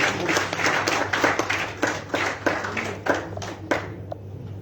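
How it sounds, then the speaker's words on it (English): An audience clapping for student union presidents at a youth peace and tolerance gathering in Zimbabwe, a moderately close burst of uneven hand claps that keeps going for several seconds and thins out toward the end. "Let's clap the hands for ZINASU."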